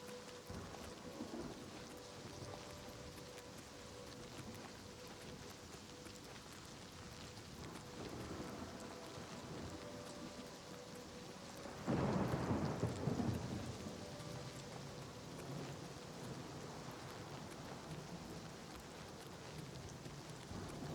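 Steady rain and storm ambience in Oblivion Remastered, a continuous wash of falling rain with a louder rumbling thunder burst near the middle that fades back into the downpour.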